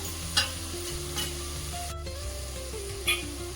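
A spoon stirs turmeric and asafoetida into soya chunks in a hot pan, a steady sizzle punctuated by a few sharp scraping strokes, with no talking.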